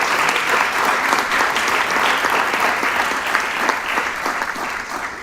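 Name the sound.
audience applause at board meeting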